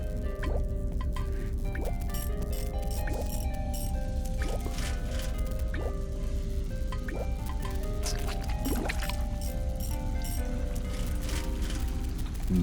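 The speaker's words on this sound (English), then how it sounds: "With the obstruction removed, I could hear water flow through the pipes to another part of the building." Water flows through pipes in the adventure game The Little Acre, heard as a steady, continuous trickling and gurgling with many small drips and squishy tones running alone throughout.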